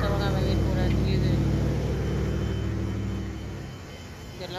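Cars driving past on a road near a traffic accident scene, a loud close engine rumble that fades after a few seconds, with a person talking over it.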